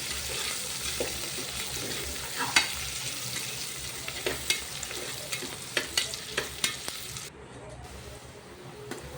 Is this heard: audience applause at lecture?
no